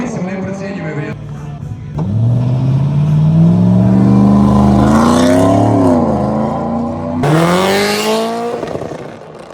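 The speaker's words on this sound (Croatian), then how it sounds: "Njegov prekrasni Audi Sport Quattro, to je jedan od samo 3 takva automobila koja postoje na svijetu." A rare Audi Sport Quattro rally car at a motorsport event at Grobnik revs hard nearby, its engine note climbing and falling in a long sweep before a second sharp, loud burst of throttle near the end.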